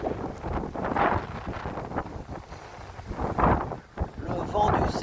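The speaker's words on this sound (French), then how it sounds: "Toujours du vent, du vent." Gusty wind buffets the microphone outdoors while riding a bike near the Eiffel Tower, low rumbling bursts that swell and fade, with a voice speaking faintly under it.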